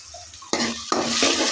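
Whole green chilies drop into hot oil in a pan, setting off two sudden bursts of sizzling with a clink of a utensil against the pan and a short stir, close and loud.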